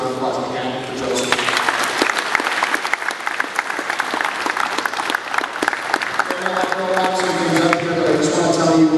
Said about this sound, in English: let's give a round of applause again for Joseph.